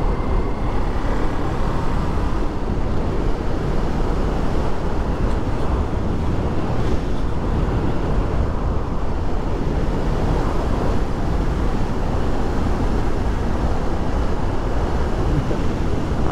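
A 2022 Kawasaki Ninja 400 ridden at speed around 60 mph, heard as a steady, loud roar of engine and rushing wind buffeting the microphone, unbroken for the whole stretch with no voices.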